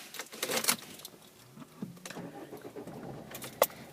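A car engine cranks and starts from inside the cabin, with keys jangling briefly near the start and a low rumble building midway before settling.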